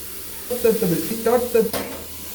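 Tomatoes for chicken biryani sautéing in a pan, a soft sizzle with a few stirring scrapes close by, over a short stretch with no talking.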